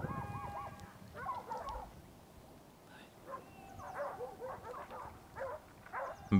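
Pack dogs on a Spanish montería boar hunt bark and yelp from afar across rough hillside, intermittent howling barks and whimpers rising and fading, with a closer thump at the end.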